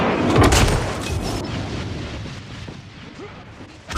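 Napalm strike in a video game: a heavy booming blast rolls out, then a sustained rumbling, crackling burn that slowly fades, and a fresh loud burst closes the stretch.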